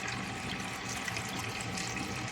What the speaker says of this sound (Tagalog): Maglalagay tayo ng tubig sa ating pot.